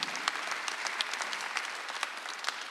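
A congregation at a Sunday church service claps steadily, a dense, even patter of many hands that holds for the whole moment without a voice breaking through.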